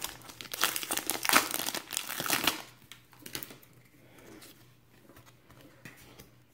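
Pokémon card packs torn open by hand make loud crinkling and ripping foil noises close by, which fade into softer rustling and shuffling of cards.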